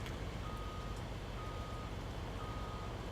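A truck in the farming video game Farming Simulator 19, on the Madison County map, sounds a reversing alarm: steady, repeating high beeps over a constant low engine rumble, with no talking.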